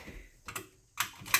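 School bus seat belt on a Blue Bird bus being latched and unlatched, a few sharp close clicks and clacks in quick succession with short gaps between them.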